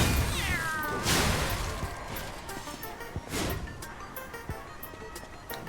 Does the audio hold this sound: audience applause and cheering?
no